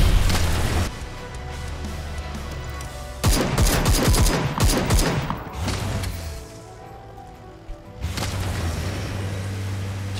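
Rapid bursts of UMP submachine gun fire in a battle royale video game, loud and close, with sharp volleys clustered in the middle and a final burst near the end, no talk over it.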